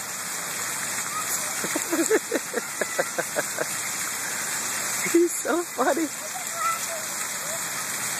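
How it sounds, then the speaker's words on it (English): Water gushes continuously down a drain where someone is playing, a constant rushing splash throughout, with a person speaking briefly over it. "That's the drain that he's playing in, where the water escapes."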